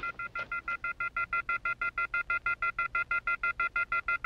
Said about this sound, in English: It means that somebody accidentally let the phone off the hook.